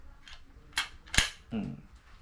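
Trigger mechanism of a new speargun bought for night diving clicks sharply a few times, with one crisp snap standing out among softer clicks and faint handling noise, close and alone.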